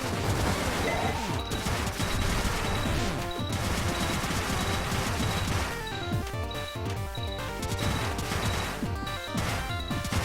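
Rapid, dense gunfire from Cave Story gameplay crackles continuously over looping chiptune music, with sharp bursts of shots clustering throughout.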